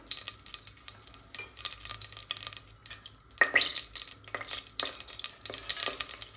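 Cinnamon, cloves, bay leaf and biryani flower sizzle in about two spoons of hot ghee for a mushroom biryani, with a steady close frying hiss, stirring scrapes and a sharper burst midway.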